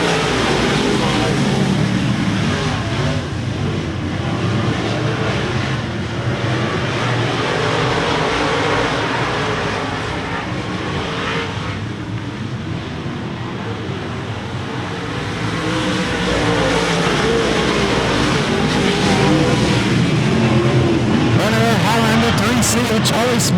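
Race cars roar around RPM Speedway during a race, engines loud and continuous with a steady dense drone throughout, while an announcer talks over the noise.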